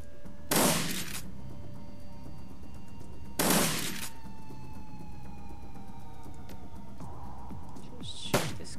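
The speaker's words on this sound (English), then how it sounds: "Shotgun." Shotgun blasts in the video game Shadowrun Dragonfall, three loud, separate booming shots spaced a few seconds apart over a quiet game ambience with a faint background hum.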